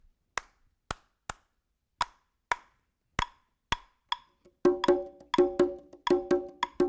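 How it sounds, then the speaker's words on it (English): Sharp wooden clicks tap out a steady rhythmic pattern alone, then a sustained tonal note joins under the later clicks, close and clear. "Here's the clave again."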